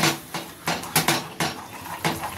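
Milk cream stirred in a pot over a medium flame to make ghee, with rhythmic scraping and knocking of a spoon against the pan repeating at an even pace.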